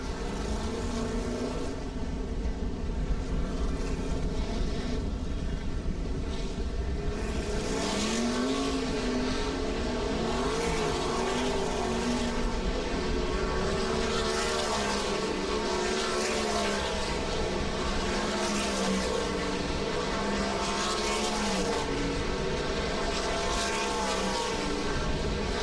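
World of Outlaws sprint cars roar through hot laps at BAPS Motor Speedway, a continuous loud engine drone with rising and falling pitch as cars pass, no talk over it.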